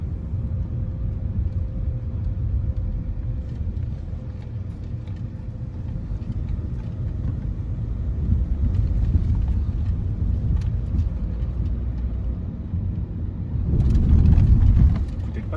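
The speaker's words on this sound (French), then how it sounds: "Là on va passer les 3 dodanes consécutifs" Interior road noise of a Volkswagen Golf 8 GTD 2.0 TDI with a DSG7 automatic, a steady low rumble with a few soft bumps, then a louder thump and rumble near the end as a speed bump passes under the wheels.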